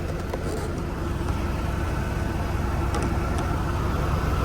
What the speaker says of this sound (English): You push it down and the truck will go to high idle and the PTO light will come on.